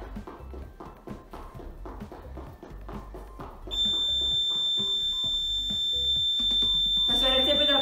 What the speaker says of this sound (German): Das wäre jetzt eben der finale Timer gewesen.